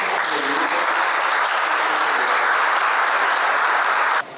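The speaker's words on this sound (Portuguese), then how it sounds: "Uma salva de palmas aí para você." Audience at a supply-chain and logistics conference panel claps steadily in a full, even burst that cuts off abruptly near the end.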